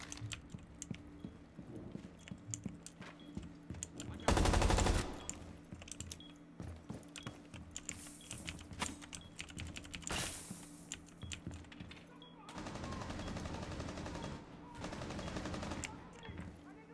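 Rapid automatic gunfire from the video game Rainbow Six, with dense bursts of shots and a long sustained stretch of firing near the end, loud and close.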